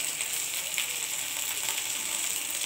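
Garlic, onion, dried chili and nigella seeds hit hot oil in a pan, giving a steady close hiss of sizzling with a few brief crackles and no talking.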